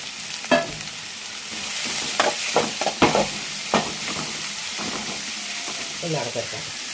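Curry leaves and onion frying in hot oil, a constant bright sizzle with sharp crackles and spatters, plus stirring knocks against the pan and a voice speaking faintly underneath.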